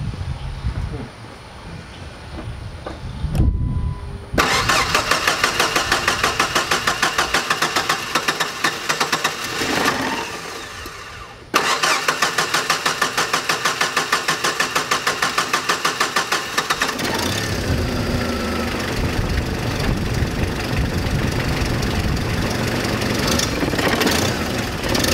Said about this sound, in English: She cranked her up and she had a lot of trouble starting because she hasn't been running like 6 months